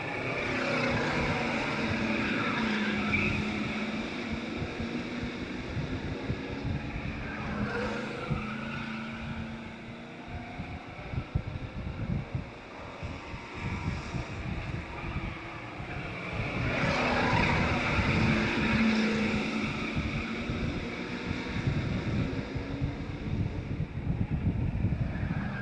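Race cars roar around an oval track, a dense, continuous engine drone that swells and fades as the pack passes down the back stretch, loud and steady throughout.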